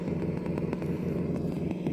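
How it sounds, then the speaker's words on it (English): A small Axial SCX10 RC Jeep with an electric motor strains up an offroad slope, giving a steady, close, buzzy whine with a low rumble and rapid pulsing throughout. "Hear his engine struggling a bit there."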